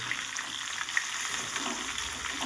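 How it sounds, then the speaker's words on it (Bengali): Amodi fish frying in hot oil in a pan, a continuous close crackling sizzle with a few sharp pops and no speech. "অপর দিকটাও আমি ভালো করে উল্টে দিচ্ছি মাছটা ভাজা হয়ে গেছে"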